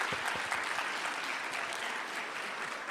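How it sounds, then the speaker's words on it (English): A TEDx Youth audience applauds its speakers with sustained, even clapping that fills the room at a moderate distance, steady throughout and without clear talk. "let's give all of our speakers another round of applause"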